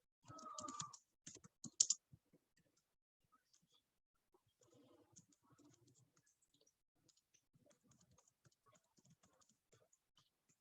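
Quick bursts of typing on a computer keyboard at the start, then sparse, faint key clicks spread through the rest.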